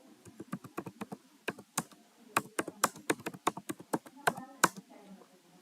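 Quick bursts of keystrokes clatter on a computer keyboard while a code comment is typed, close and crisp, with short pauses between words.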